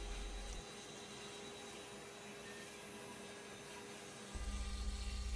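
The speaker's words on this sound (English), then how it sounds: "The final outside shape is being cut with a half inch end mill, same bit we did the roughing pass with." A CNC wood carving machine cuts the final outside shape of a wooden piece with a half inch end mill, giving a steady whirring drone throughout with a louder low rumble at the start and end.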